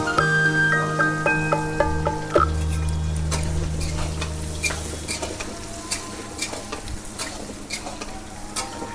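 Paneer is stirred and fried in a pan, with a spatula clattering and scraping steadily over a continuous sizzle and a low hum through the first half.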